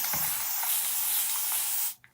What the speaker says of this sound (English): And I'm gonna spray.